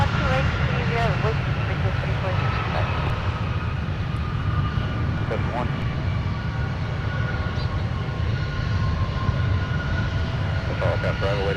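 A Delta airliner arriving from Nashville rumbles steadily at Minneapolis–Saint Paul airport, a sustained engine roar lasting throughout, with air traffic radio chatter heard over it.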